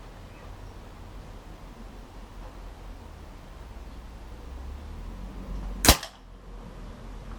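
One sharp crack from a Stoeger RX20 air rifle firing a pellet at a target stands out alone against a quiet, hissy background.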